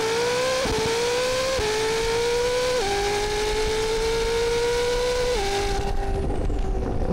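A hypercar launching hard in automatic gear mode, the engine note rising steadily and dropping sharply at each quick upshift, loud and continuous throughout.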